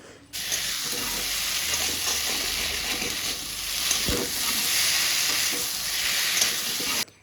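Spices, chopped onion and a ginger, garlic, onion and chilli paste frying in hot oil, giving a loud continuous close-up sizzle with brief stirring scrapes and no talking.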